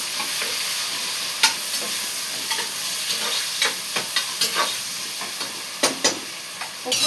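Onions sizzle and fry steadily in a hot pan beside marinated mutton, with a constant hiss broken by sharp clicks and scrapes from stirring, close and with no talking.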